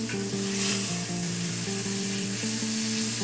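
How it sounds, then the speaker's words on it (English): Sides of a sous-vide-cooked tenderloin filet seared in hot butter, giving a steady, close crackling sizzle with quiet stepped music tones running beneath it. "Each side is seared, so now we want to sear the sides as well."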